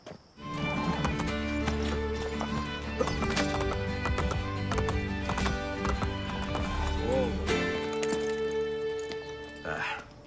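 A horse in Assassin's Creed Brotherhood clip-clops with steady hoofbeats and whinnies over a full orchestral score, with speech in places, the hooves and neighs prominent and near.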